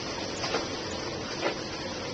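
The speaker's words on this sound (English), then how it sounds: "that's the washing machine if you're just wondering." A washing machine runs indoors during a rainstorm, a steady mid-level whirring hum with two soft swells, continuous and unbroken with nobody talking.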